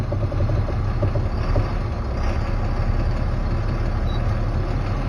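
A truck rolling forward slowly to about 5 mph for a service brake test, a steady loud low engine rumble with road noise, recorded from inside the cab, no talking.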